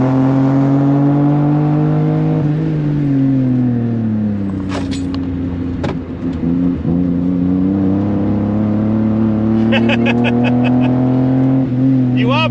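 A budget car's engine drones loudly as it climbs toward the red line, its pitch shifting steadily, with brief clicks and a voice talking faintly under it.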